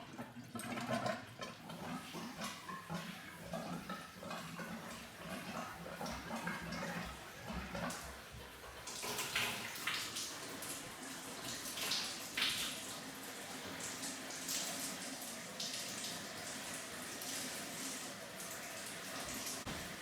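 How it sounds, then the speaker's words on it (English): Hot water sputters and then runs from a sink tap in an abandoned house in the Arctic region, irregular gurgling and splashing that grows steadier and louder partway through as the flow builds, fairly close. "That is coming from the hot water pipe."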